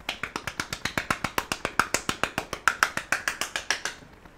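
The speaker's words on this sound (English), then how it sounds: "The golf clap." A Fortnite golf clap emote produces a quick, even series of about two dozen crisp claps, close and clear, with no voices over it.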